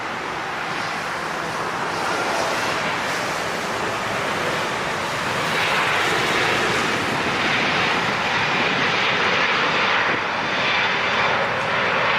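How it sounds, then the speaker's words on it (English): A Boeing 777 with huge GE90 engines roars at an airport, a steady loud broadband jet rumble and hiss that swells slightly and holds throughout, with no voices. "Let's get this big 777."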